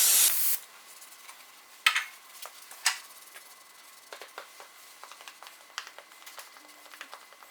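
Brake parts cleaner spraying from an aerosol can onto a rag during an Evinrude outboard water pump repair: one loud hiss at the start, then quiet scattered rubbing, clicks and taps of wiping close by.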